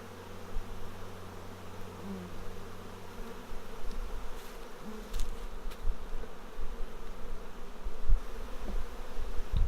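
A honeybee swarm buzzes steadily during a hive inspection, a dense continuous drone close to the ear, swelling slightly in loudness with a few sharper passes of individual bees nearby.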